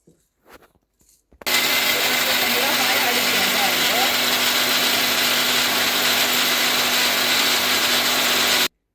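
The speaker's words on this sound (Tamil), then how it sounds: "இதை நாங்கள் இப்போ இந்த கிரைண்டரில் போட்டு அடித்து எடுக்கப்போம்" An electric grinder starts up and runs loudly and continuously, churning soaked chillies with a harsh, even whir that cuts off abruptly, preceded by a few faint knocks.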